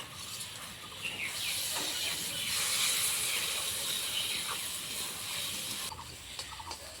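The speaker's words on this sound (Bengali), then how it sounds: "এখন মশলার সঙ্গে কষিয়ে নেব।" Spiced pabda fish with hot chilli powder sizzles steadily in a pan, a continuous loud frying hiss that swells in the middle and eases slightly toward the end, with no talking.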